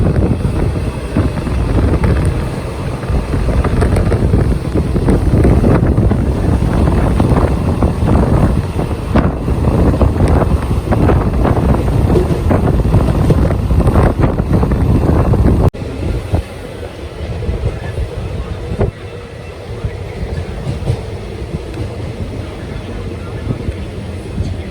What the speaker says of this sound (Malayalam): ഇവിടുന്ന് ട്രെയിൻ എടുത്തുകൊണ്ടിരിക്കുകയാണ്.